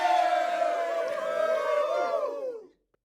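A crowd cheers and whoops loudly for a high school team, many voices overlapping in a dense, sustained roar that cuts off abruptly near the end.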